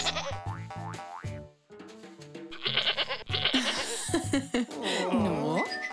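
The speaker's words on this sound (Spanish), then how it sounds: "No, esto no es un labial. Es una cabra." A cartoonish goat bleats in a children's colour-learning show, with wavering, warbling cries over bouncy music and playful sound effects.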